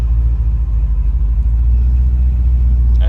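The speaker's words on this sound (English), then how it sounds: "I'm driving the truck again because this is so much more hot rod than the Dodge" A slammed Chevrolet C10 truck drives along with a steady, loud low engine rumble that stays constant throughout, with no voices over it.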